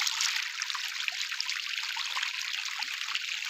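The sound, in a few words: irrigation water flowing in a field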